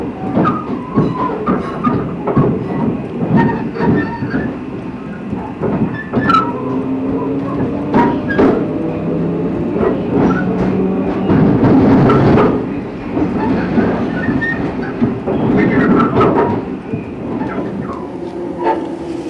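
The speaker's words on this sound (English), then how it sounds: "There's the next train." A train passes close by on a line near Glasgow, with a steady rumble, rhythmic clickety-clack over rail joints and squeals and clanks building and fading over about twenty seconds, loud and with no talk over it.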